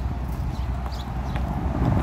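Horse hooves clip-clopping at a walking pace, moderately close, with a low rumbling background.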